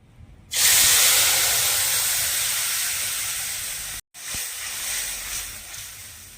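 Ground spice paste for a fish curry hits hot oil tempered with nigella seeds, bursting into a loud, broad sizzle that slowly fades, briefly cuts out, then resumes steadily frying.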